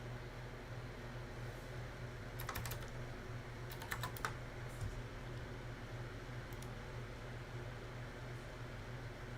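Keys clack on a new, slightly larger computer keyboard in a few quick clustered bursts, set against a steady low hum of a fan or air conditioning in a quiet room.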